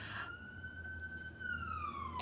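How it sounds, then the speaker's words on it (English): A police siren passes outside, heard faintly through the room as a single long wailing tone that slowly drops in pitch, with a brief voice at the start. "sorry, we have sirens today"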